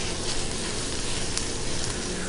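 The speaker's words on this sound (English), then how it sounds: "It's going to take a few minutes to cook. Just kind of sizzle it in the pan." Tex-Mex enchilada filling sizzling in a pan, a steady, close, loud hiss of frying with faint crackles throughout and no talk.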